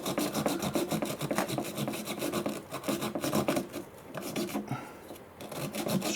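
A stainless steel bristle pen scrubs the corners of a PECO laser cut Country Station model kit, giving fast, continuous scratchy rasping strokes in a steady rhythm, close and alone.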